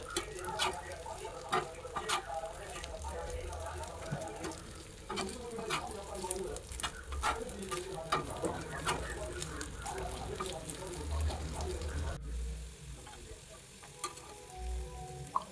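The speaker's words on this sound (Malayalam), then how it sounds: "ഇതും ഒരു 2-3 മിനിറ്റ് ആ എണ്ണയിലിട്ട് ഒന്ന് ഫ്രൈ ചെയ്തെടുക്കണം" Potato pieces frying in hot oil for a Kerala-style prawn and potato roast, a steady crackling sizzle with scattered pops and occasional stirring clatter, moderately close and without talk.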